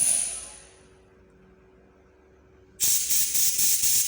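Compressed air sprayed into carburetor jets and passages during cleaning makes a sharp hiss that fades to near silence, then a loud, steady spray resumes with slight pulsing bursts.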